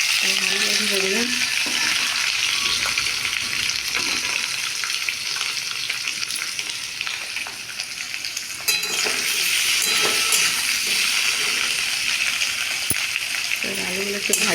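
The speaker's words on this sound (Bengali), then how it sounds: "আলুগুলো একটু ভাজা হোক" Potatoes sizzle steadily in a pan for a vegetarian potato dish, a continuous frying hiss with occasional stirring scrapes and brief speech at the start and end.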